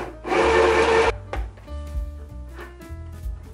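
A budget sewing machine stitches chiffon in a short, loud, rapid mechanical whir lasting under a second, followed by clicks, thumps and low motor hum as the machine stops.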